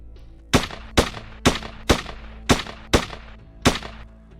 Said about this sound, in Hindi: 1-2 नहीं 7 राउंड फायरिंग हुई।